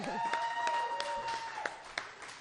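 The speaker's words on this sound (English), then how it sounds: "one more round of applause for Dusty Faust" An audience at a live show gives light, scattered applause with a few distinct claps standing out, while a voice carries on faintly underneath.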